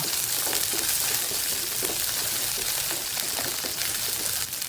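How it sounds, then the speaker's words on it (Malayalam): Okra frying in a few tablespoons of hot coconut oil, a dense, continuous close sizzle and crackle that holds steady throughout with no voice over it. "ഇനി ഇതിലോട്ട് നമുക്ക് വെണ്ടക്ക മാറ്റാം നന്നായി ഫ്രൈ ചെയ്തെടുക്കണം"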